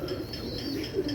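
A pigeon recovering from a wing injury coos softly and steadily, a low warbling call repeated close by with no one speaking.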